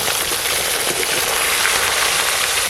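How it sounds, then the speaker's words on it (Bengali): Fresh pond fish pieces are lightly fried in hot oil before going into a thin fish curry. The dense, loud, close sizzle holds steady throughout. "ঝোলের জন্য মাছগুলো হালকা করে ভেজে নেব।"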